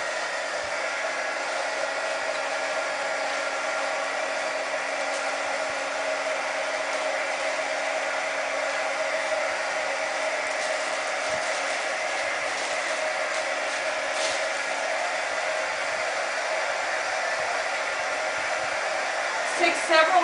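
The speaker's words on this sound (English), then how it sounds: "we've moved to a heating or embossing tool" Heat embossing tool blowing hot air to shrink gift wrap, a steady, continuous hair-dryer-like whoosh and whine held at even loudness for about twenty seconds, with faint rustling clicks near the end.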